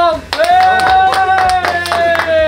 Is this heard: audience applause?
yes